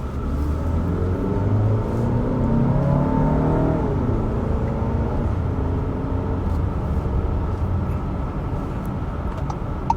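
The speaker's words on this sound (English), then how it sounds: "as far as shifting and the overall feel of this engine, it's actually pretty smooth" A 2022 VW Tiguan SE R Line SUV engine pulls steadily under acceleration from inside the cabin, a continuous low rumble with rising harmonic whine that shifts around the gear change, smooth and unbroken with no talking.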